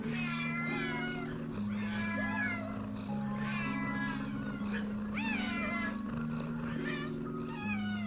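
A heavily pregnant cat meows repeatedly in close, rising and falling cries over a steady looping musical background.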